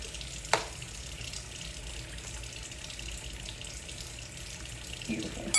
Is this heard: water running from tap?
yes